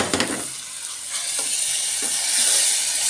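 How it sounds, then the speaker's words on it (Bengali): Spices and chopped tomato fry in a pan for a Bangladeshi egg curry, with a loud steady sizzle and hiss close by and a few soft stirring knocks. "মশলা আর টমেটো একটু কষিয়ে নিব।"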